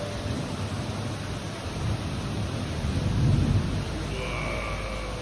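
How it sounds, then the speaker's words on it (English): Heavy rain pours steadily during a thunderstorm, with a low rumble of thunder swelling near the middle; broadband, continuous and fairly loud, with no voices. "It was raining really hard and did get this cool lightning strike"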